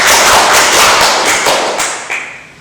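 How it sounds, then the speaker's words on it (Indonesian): Applause from a Sunday school congregation of children clapping their hands together, a dense, steady patter of many claps close by that fades out toward the end. "Tepuk tangan."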